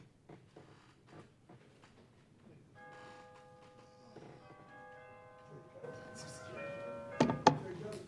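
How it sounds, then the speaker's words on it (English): A bell tolls faintly several times in the Bahamas House of Assembly, its ringing tones lingering among soft knocks and shuffling in a quiet chamber. "Bell tolls."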